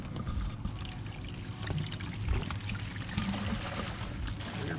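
Black waste water drains from the holding tank of a Forest River Wolf Pup 16BHS travel trailer at a campsite, a steady rushing, gurgling pour that runs continuously and close by with no talking.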